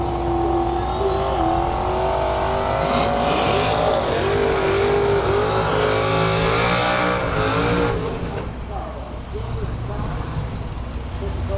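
Drag racing cars roaring down the strip at a qualifying event, a loud sustained engine blare with rising and falling pitch, fading somewhat near the end as the run passes.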